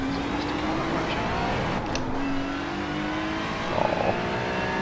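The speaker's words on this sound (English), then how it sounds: "It's the car approaching." Race car approaching in the iRacing video game, a steady engine tone rising in pitch as it closes in, moderately loud with faint talk in the background.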